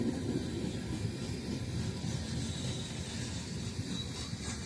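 A train rolls past at a steady distance, a continuous low rumble with broadband hiss and rail noise, no voices.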